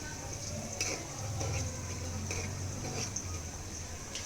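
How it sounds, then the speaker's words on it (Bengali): Onion sizzling in oil in a kadai, a steady frying hiss with occasional stirring scrapes, close and continuous. "কড়াইতে এখন পেঁয়াজ নিয়ে পেঁয়াজ আর তেল রান্না করা হইতেছে ভালোভাবে"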